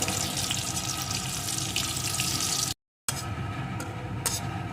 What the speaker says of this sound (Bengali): দুটো শুকনো লঙ্কা একটু গোটা চিড়ে ফোড়নগুলো সুন্দর করে লাল লাল করে ভেজে নেব